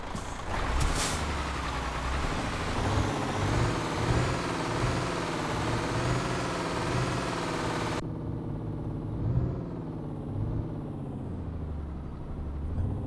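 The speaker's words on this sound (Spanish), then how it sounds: "vamos a encender el motor," An International 4700 truck loaded with bricks in Euro Truck Simulator fires up, giving a steady, dense diesel rumble that runs continuously and shifts to a duller, lower tone partway through, with no voices.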